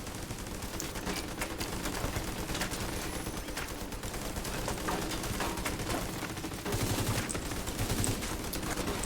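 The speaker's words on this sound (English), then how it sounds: "Oh, he's shooting at me?" Dense enemy gunfire in Division 2, rapid continuous automatic bursts crackling close and loud, with the intensity rising near the end and no talk over it.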